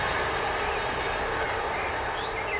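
A long, noisy goods train rolls past in a continuous steady rumble and rattle of wagons, loud and unbroken throughout with no gaps between cars.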